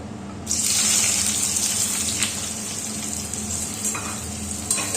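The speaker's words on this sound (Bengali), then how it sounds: "পেঁয়াজগুলোকে এবার আমি লাল লাল করে ভেজে নেবো বিরিয়ানির জন্য" Sliced onions hit hot oil and fry into birista for a hilsa biryani, a loud, steady sizzle with a bright hiss that holds throughout, with a few soft knocks of stirring and no talk.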